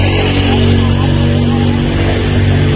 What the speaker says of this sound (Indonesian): suaranya kurang jelas, ada suara motor.